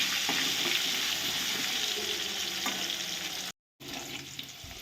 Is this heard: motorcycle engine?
no